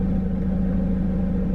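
Project G5 car fitted with a custom-made intake passes at steady volume, a continuous low engine rumble without a clear rise or fall.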